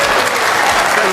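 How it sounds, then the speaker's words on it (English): Loud, dense applause sweeps across a packed hall during a heated public exchange, a continuous roar of clapping that stays close and full from start to finish. "Applause broke out across the hall"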